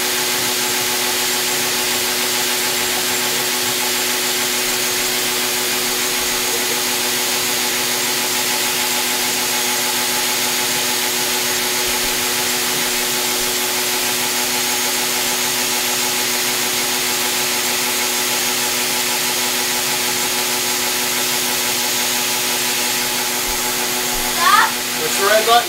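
A vacuum cleaner powering a vacuum forming setup drones loudly and steadily for about 25 seconds with a constant whooshing roar. It is joined by a few small knocks near the end.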